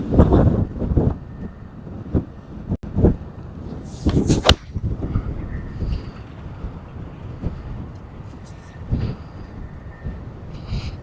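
A stiff breeze on a golf course buffets the microphone in loud, gusty rumbles and whooshes that rise and fall unevenly, with a couple of sharp cracks between gusts.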